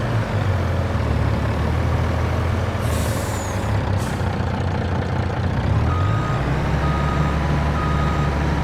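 A Mack truck reversing on a Missouri farm in Farming Simulator 22: a steady diesel rumble with a sharp air-brake hiss, then a repeating reversing beep sounding at intervals over the engine.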